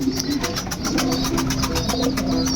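Racing pigeons cooing inside a loft, with repeated soft throaty coos close by over a low steady engine-like hum in the background.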